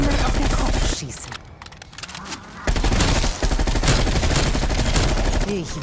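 Rapid gunfire from weapons in the video game Call of Duty: Black Ops Cold War Zombies, dense bursts and volleys that drop briefly to a quieter stretch before resuming loud and continuous.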